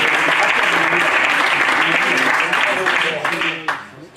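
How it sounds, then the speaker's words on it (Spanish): An audience at a financial innovation talk applauds in a full, close burst of clapping that holds steady, then thins and fades out near the end. "Un aplauso a eso"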